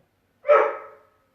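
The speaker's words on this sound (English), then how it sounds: "Stupid dog." A single sharp dog bark rings out close by in a quiet indoor room and trails off quickly into silence.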